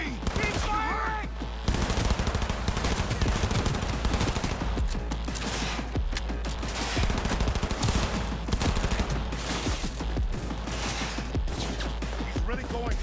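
Sustained automatic gunfire in Cyberpunk 2077 rattles continuously in rapid, heavy bursts, loud and close, with shouting voices mixed beneath the barrage.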